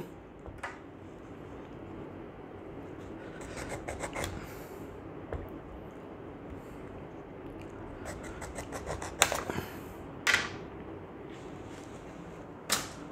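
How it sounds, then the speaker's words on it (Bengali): A knife works through a malta orange in quiet, close scraping and rubbing strokes, with several small sharp clicks and taps scattered among them, no voices. "আরেকটা মালটা কাটবো।"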